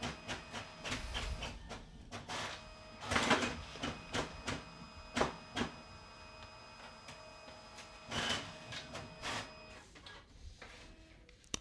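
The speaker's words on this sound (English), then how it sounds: "The printer will take one by one each pages" Brother MFC-J1010DW inkjet printer pulling pages through one at a time while copying, with quiet mechanical whirs and rhythmic feed clicks heard close and alone.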